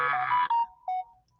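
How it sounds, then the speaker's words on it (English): A phone rings out with a short electronic ringtone or message alert, a few clear melodic tones that stop abruptly in an otherwise quiet room. "I am so sorry for my phone."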